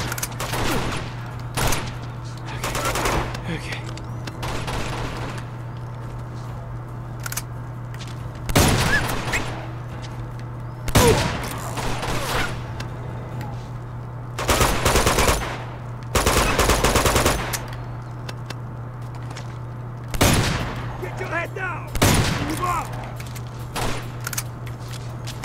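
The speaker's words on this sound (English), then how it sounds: "There's a machine gun over there!" Machine gun fire in the video game Uncharted 2: Among Thieves during an urban firefight, with repeated loud bursts and volleys breaking over a steady low hum, separated by quieter pauses.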